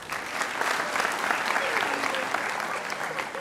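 Audience applause at a high school student achievement night in East Longmeadow, a steady, dense clapping from a full room that holds throughout without a break.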